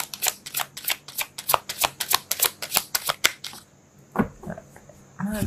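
Tarot cards are shuffled by hand in a fast run of crisp riffling flicks for about three and a half seconds, close up, then brief shuffling taps and a voice speaking.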